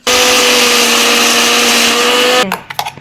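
A mixer grinder grinds curry leaves and green chillies into a coarse paste with a loud, close, steady motor whine and buzzing hum. The motor stops abruptly after about two and a half seconds, followed by a few rattling knocks.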